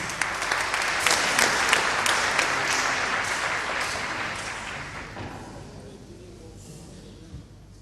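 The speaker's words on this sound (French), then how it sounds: "Applaudissez, applaudissez-la." Crowd applause, loud and dense with many hands clapping, gradually thinning and fading away toward the end.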